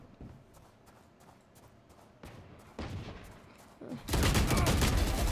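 Pistol fire in the video game Valorant comes as sharp shots that grow louder and denser into a rapid closing volley, with no voices.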